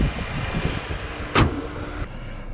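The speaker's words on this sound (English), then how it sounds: "So let's drive the car and see how well it performs." A 2022 Audi A3 S-Line sets off on a drive with a low, steady cabin hum, a sharp thump or click partway through, and a faint electric whine near the end.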